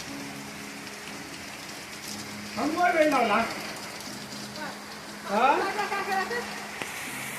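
Steady heavy rain hisses throughout, with someone speaking briefly in two short bursts over the downpour.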